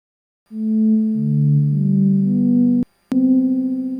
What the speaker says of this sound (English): we've moved from a sine wave to a slightly bit more brass sounding sound now